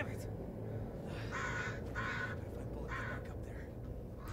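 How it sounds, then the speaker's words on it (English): Repeated crow caws in the video game Blair Witch, harsh and fairly loud, sound in short bursts over a dense, noisy background of steady ambience. "I could barely hear myself over those crows"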